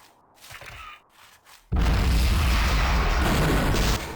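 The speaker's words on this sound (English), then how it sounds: "the anchor could explode at any moment" A loud explosion in the video game Gunman Chronicles bursts in suddenly after quieter game sounds and sustains as a heavy roaring rumble for over two seconds before easing slightly.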